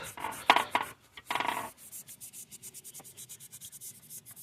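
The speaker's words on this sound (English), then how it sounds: "Throw a brake cleaner on there and just gets to scrubbing. Make sure you get all the gasket surface." A gasket surface doused in brake cleaner gets scrubbed during a Hemi water pump replacement: a few heavy rough bursts of scouring, then a quick, even back-and-forth rubbing close by.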